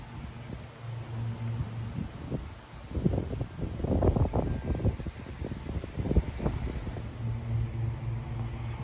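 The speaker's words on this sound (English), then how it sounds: "It's kind of windy today" Gusty wind blows outdoors on a windy day at a house exterior job site, a steady broadband rush with louder buffeting surges through the middle, close on the microphone with a low hum beneath and no talk.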